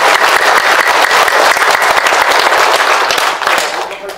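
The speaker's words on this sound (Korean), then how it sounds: "박수 한번 해주세요." Loud, dense audience applause at a Korean political lecture, a steady burst of many hands that fades out in the last half second.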